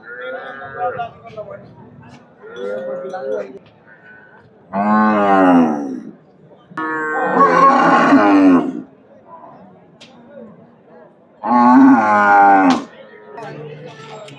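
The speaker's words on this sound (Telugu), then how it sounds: "మీడియం సైజ్ ఆవులు ఇవి" Medium-sized cows at the Sardar Nagar cattle market give several loud, drawn-out moos in three separate bursts, with low voices and market chatter in between.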